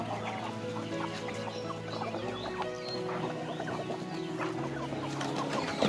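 Several red-gold native chickens cluck and chatter continuously, with scattered higher chirps from smaller birds mixed into the busy farmyard sound.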